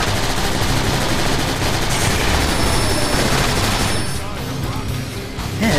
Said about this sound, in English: Man, they got shotguns.